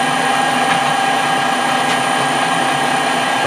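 A metal lathe turns down the outside of a moderator adapter, giving a steady, loud mechanical drone with a constant whine and faint cutting texture throughout, without talk.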